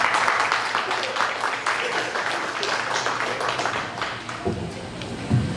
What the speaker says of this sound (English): Let's give a round of applause to Pablo Mendoza.